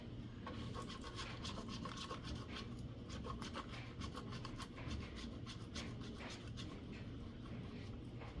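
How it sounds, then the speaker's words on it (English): Half a stick of cold butter rasps against a grater in quick, repeated strokes, quiet and close. "I'm going to take a 1/2 stick of this, and I'm going to grate it."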